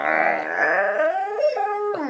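Great Dane puppy whining and howling in drawn-out, wavering cries that rise and fall, close and fairly loud, with no talking during the cries.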